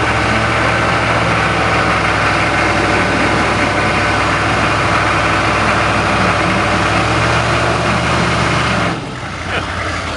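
Chevy Corvair engine driving on a little snow with new snow tires and a G80 positraction: a loud, steady engine drone close to the listener with a constant rumble, easing off near the end.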